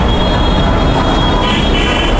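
A light rail train rumbles past close by in Manila, a loud continuous roar of wheels on rails with a steady metallic drone.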